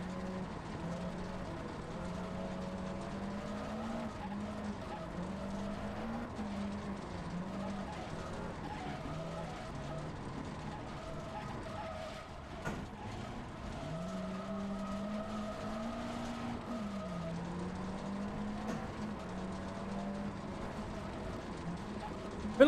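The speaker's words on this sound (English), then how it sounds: "I feel like the engine is very quiet compared to like the tyre screeching and whatnot." Rally car tyres squeal and skid in Richard Burns Rally on the 1984 Circuit of Ireland, a steady engine drone with long wavering screeches rising and falling over the stage.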